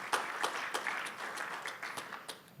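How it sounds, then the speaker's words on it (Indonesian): Congregation clapping in a church service, a fairly quiet, steady patter of many hands with a few sharper claps standing out, heard alone without talk. "Tepuk tangan bagi Tuhan Yesus."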